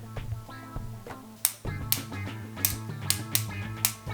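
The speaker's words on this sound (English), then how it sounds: "I will be playing my chapstick with a pen." A pen tapping on a chapstick tube as a found-sound instrument, an uneven series of crisp, bright clicks close by over a low steady background hum.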